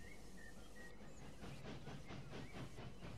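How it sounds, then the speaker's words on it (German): A through train rolling past in the EEP railway simulator, a steady rumbling run with rhythmic clattering pulses that grow more distinct in the second half, with a faint hiss over it. "Der Durchgangszug."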